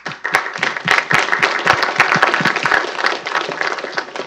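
An audience applauds a panel at a Bitcoin policy event with Senator Ted Cruz, loud, busy clapping from many hands that stays strong throughout and tapers slightly at the end.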